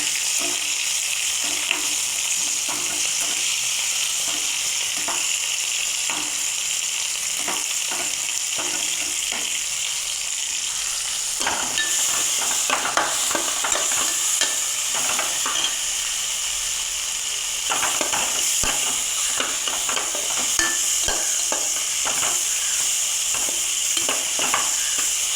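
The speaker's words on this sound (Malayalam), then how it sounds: "വെണ്ടയ്ക്ക ഒന്ന് നമുക്കൊന്ന് നല്ലപോലെ മൂപ്പിച്ചെടുക്കാം" Okra frying in a pan and being stirred, with a steady, close sizzle throughout and frequent scraping stirs of the utensil.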